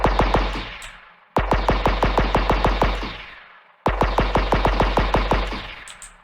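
A blaster gun fires in a Unity game in three rapid automatic bursts of sharp, punchy shots. Each burst carries about a dozen evenly spaced cracks with a short echoing tail.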